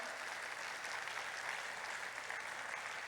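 A church congregation gives loud, sustained applause during a Sunday service, a steady wash of clapping heard from a distance at low level.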